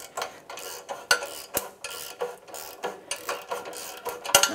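A 13 mm socket wrench ratchets on a flex pipe bolt of a 2014-2022 Chevrolet Trax, giving a close, rapid run of sharp clicks in uneven bursts with no talk.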